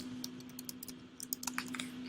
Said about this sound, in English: by typing in a comment